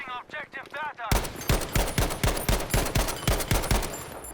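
Rapid rifle fire from a Gewehr 43 in the video game Battlefield V: a string of about a dozen sharp, loud shots at a steady semi-automatic pace, preceded by a brief moment of talk.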